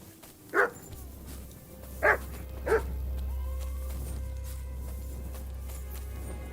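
A dog in the video game Kingdom Come: Deliverance 2 gives three sharp barks at mid distance, one alone and two in quick succession, over a low steady background hum.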